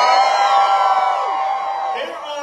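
A large evening election rally crowd of over 3,000 New Yorkers cheers and whoops loudly, a sustained dense roar of many voices that tapers slightly toward the end.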